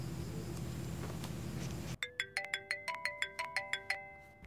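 A phone ringtone starts after a stretch of low background noise, then repeats as a rapid run of about a dozen bright, evenly spaced electronic tones, close and clear, with no talking over it.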